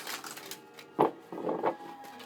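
A deck of tarot cards is shuffled close by, giving a few quick rustling riffles and soft card slaps in uneven bursts, with no speech.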